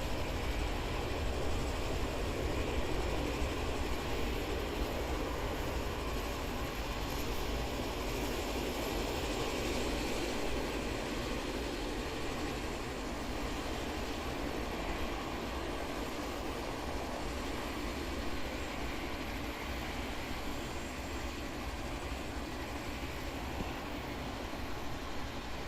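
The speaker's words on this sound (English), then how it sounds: "Air New Zealand A320, CO seeming heavy as well as it takes off towards Auckland" An Air New Zealand Airbus A320 takes off from snowy alpine Queenstown Airport toward Auckland, its engines producing a sustained, distant roaring rumble that holds steady and slowly eases across the whole span.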